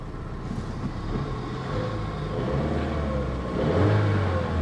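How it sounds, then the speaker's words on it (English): A car engine revs and holds a steady drone, rising in pitch toward the end, with a faint mechanical chatter coming from under the hood; no voices. "chatter from under the hood that is a little bit concerning to me"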